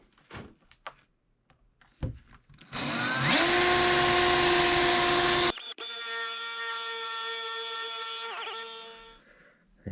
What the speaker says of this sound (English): Now I can drill this hole.